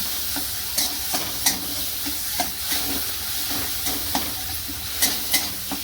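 Banana pieces frying in ghee with poppy seeds, stirred with a spoon that scrapes the pan in repeated bursts over a steady sizzle, for rava and banana modak.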